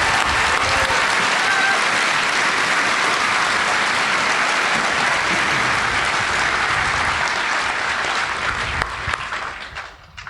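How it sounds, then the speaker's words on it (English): An audience at an Army basic combat training graduation ceremony claps for the Army Band, dense sustained applause filling the space for about nine seconds before tapering off. "please join me in a round of applause thanking them"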